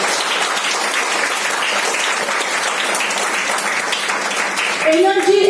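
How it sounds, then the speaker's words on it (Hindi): Sustained audience applause at a Women's Day celebration in an office, cheering the crown ambassadors, steady and dense throughout, with a voice rising over the clapping near the end. "तो क्राउन एम्बेसडर के लिए तालियां होनी चाहिए।"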